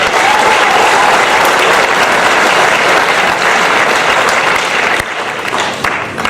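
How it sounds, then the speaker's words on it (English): At a high school fall sports awards ceremony, the audience claps loudly in a thick, sustained burst that eases slightly near the end. "Let's give them a round of applause."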